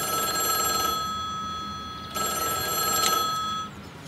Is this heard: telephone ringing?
yes